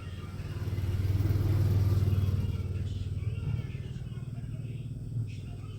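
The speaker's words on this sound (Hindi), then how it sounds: "जो अस्तर का फैब्रिक है और मेन फैब्रिक है, दोनों फैब्रिक को मैं एक साथ सिलाई कर रही हूँ।" A sewing machine stitching lining and main fabric of a princess-cut blouse together, giving a steady close rhythmic motor whir that swells and then holds, with someone talking over it.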